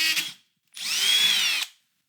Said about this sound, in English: Good thing is the metal's super soft, so it's easy to drill.